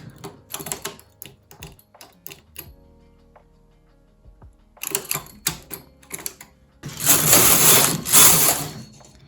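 A knitting machine knitting rows for a cable pattern, with clattering, ticking bursts as the carriage passes, quiet pauses between, and a longer, louder rasping pass near the end.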